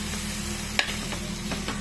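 Masala egg and boiled Maggi noodles are stirred in a frying pan over steady sizzling, with a few distinct scrapes and clicks of the spoon against the pan.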